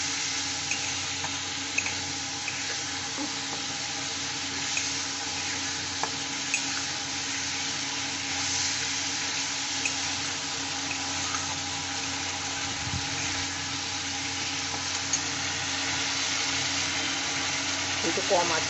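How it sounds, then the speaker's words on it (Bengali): Curry masala with tomato being sautéed with a little water in a pan for a thin katla fish curry with potato and pointed gourd, a faint, even bubbling sizzle that runs steadily throughout with occasional tiny ticks. "একটু জল দিয়ে আমি এইটা কষে নেব, একটু কষতে সময় লাগবে।"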